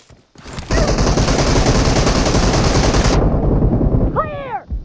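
Sustained automatic fire from an M762 rifle in PUBG Mobile, a loud continuous burst of rapid shots lasting a few seconds, followed by brief whooshing game effects.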